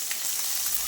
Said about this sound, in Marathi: मी मिरची पावडर कोबूवरती टाकली कारण की तेल आपलं जास्त तापलेलं होतं.